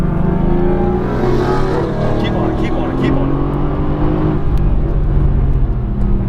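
A 2017 Mercedes-AMG GT S accelerates hard on a racetrack, its engine a loud, sustained roar heard from inside the car while a man repeatedly urges the driver on.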